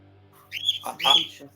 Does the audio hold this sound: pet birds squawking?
yes